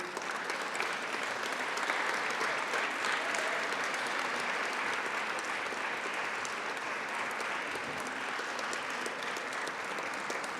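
Audience at the George Peabody Legacy Awards applauding award recipients, a dense, even wash of clapping that holds steady and loud throughout with no talking over it.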